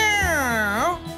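A voice imitates a cat's meow, one long drawn-out wavering cry that rises and falls, loud and close, spoken in a children's educational show at a trampoline park.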